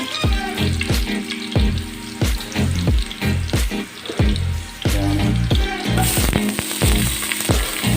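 Garlic frying in butter in a pan, a steady sizzle broken by repeated sharp scraping and stirring strokes, close and loud with no talk.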